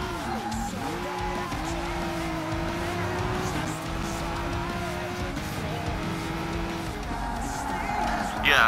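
A race car in Gran Turismo Sport roars through shifting engine pitches, rising and dropping with gear changes, with tires squealing and skidding at times; the engine stays loud and continuous.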